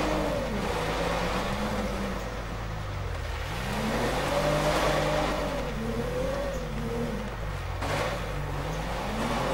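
A Toyota Corolla engine strains uphill off-road in GTA 5, droning loudly and continuously with the revs wavering up and down as the car labors, and no talk over it.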